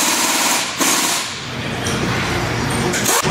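A small drill bit bores pilot holes into metal, a continuous high buzzing whine with brief breaks and shifts in pitch as the bit bites.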